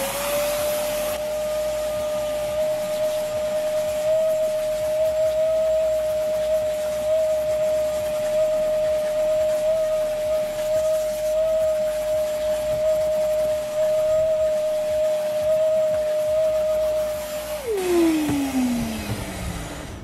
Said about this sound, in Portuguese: Agora, para comparar, vamos passar o outro aspirador,